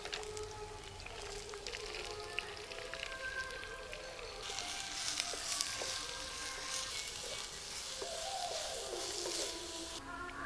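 Sliced onion sautés in a pan with a soft, steady crackling sizzle and scattered small pops. It is faint and fairly distant, with no talking.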